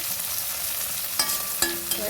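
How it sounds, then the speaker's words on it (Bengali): Okra sizzles in hot oil in a pan, a dense steady frying hiss with a few light scrapes of stirring. "আমার তো ভেন্ডি ভাজা হয়ে যাচ্ছে, এবার তুলে নেবো"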